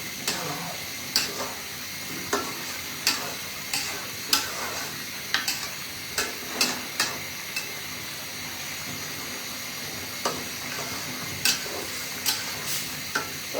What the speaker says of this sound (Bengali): তোমার তরকারি আমি একটু নাড়া দিয়ে দিলাম, উপর নিচ করে দিলাম